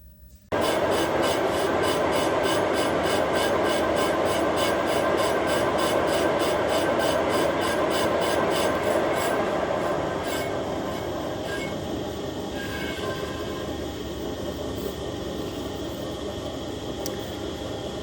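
Metal lathe taking a skim cut on a Caterpillar C15 hydraulic pump mount flange: a loud, steady, harsh scraping whine with ringing tones that starts abruptly and runs unbroken, easing slightly toward the end.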